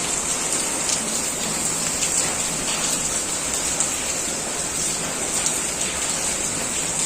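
Heavy rain pours down steadily, a dense, even hiss of water striking surfaces that holds at the same strong level from start to finish, with no voices.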